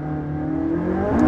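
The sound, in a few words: McLaren 675LT 3.8 liter twin turbocharged V8 engine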